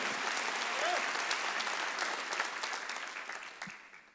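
Church congregation clapping during a Wednesday worship service, a steady wash of many hands that continues throughout and slowly tapers off toward the end.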